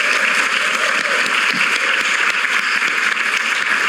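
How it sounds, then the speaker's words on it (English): Audience applause for a panel at a philanthropy event, a sustained, even patter of many hands filling the room at moderate loudness, with no voices over it. "let's give another round of applause for this great panel here today."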